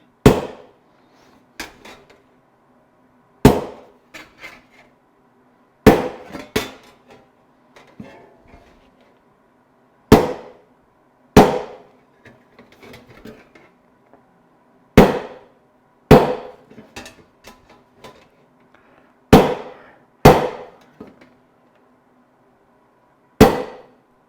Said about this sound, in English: Now when I do this, I'm going to use the ball peen of the hammer.